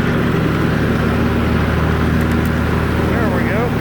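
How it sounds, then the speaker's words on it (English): A 2020 Cub Cadet 17hp riding mower with a 46-inch deck running with its blade engaged, putting out a steady loud close drone that holds level throughout. "Let's engage the blade."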